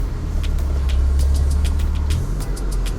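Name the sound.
car driving on a road in Jamaica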